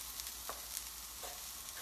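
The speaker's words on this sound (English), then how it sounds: "it sizzles." Onions sizzle in a hot pan for a vegan massaman curry, a steady faint frying hiss throughout with a couple of brief louder crackles.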